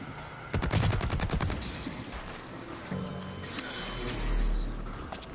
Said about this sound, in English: Oh, he got me with that light MG.